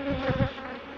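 Honeybees buzz around a hive during a swarm, a close, dense droning hum with a brief louder surge as a bee passes near, alone with no voices.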